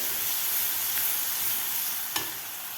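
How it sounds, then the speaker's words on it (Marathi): A paste of green chili, cumin and garlic frying in a pan for a fenugreek curry, a steady hissing sizzle throughout with one brief sharp tap of stirring. "आता व्यवस्थित आपल्याला हे वाटण परतून घ्यायचं आहे एक मिनिटभर"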